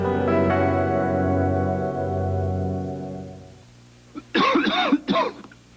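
Someone coughs and clears their throat in a quick burst of two or three harsh, close hacks after a stretch of sustained background music.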